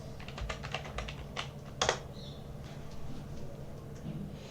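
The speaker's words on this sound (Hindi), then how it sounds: "URL में टाइप करते हैं ubuntu.com" Keystrokes on a computer keyboard as a web address is typed, a quick run of close clicks with a few short pauses, over a faint steady hum.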